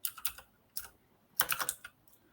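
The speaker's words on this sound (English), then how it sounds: "What's a bit of typing between friends? With your very loud keyboard." Someone types on a very loud computer keyboard, producing quick bursts of sharp, close clicking in two short clusters separated by a brief pause, with no talking.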